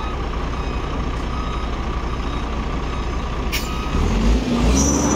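A Shacman F2000 truck engine idling with exhaust running, a loud steady low rumble that swells heavier near the end, close by with no talking.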